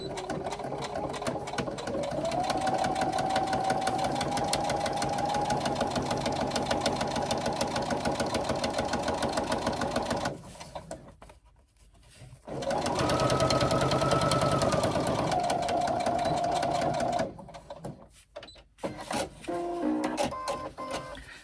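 A sewing machine runs in long steady bursts while stitching a 3/8 inch seam on a fabric pouch, loud and close, with a brief pause between two runs and no voice over it.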